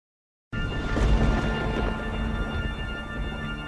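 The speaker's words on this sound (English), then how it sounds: "The thunder." Thunder opens a song intro, bursting in abruptly after a brief silence as a loud, deep rumbling roll that stays dense and sustained, with a faint tonal layer underneath.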